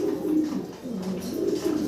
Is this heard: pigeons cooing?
yes